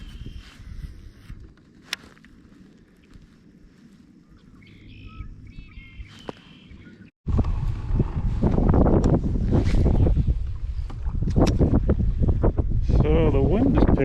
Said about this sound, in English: So the wind is picking up already, which it was not supposed to do for another few hours